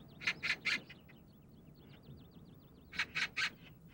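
Magpies in a rural Korean setting give two bursts of harsh, rattling chatter, three calls each, with faint repeated chirps from smaller birds in between, all over a low outdoor background hum.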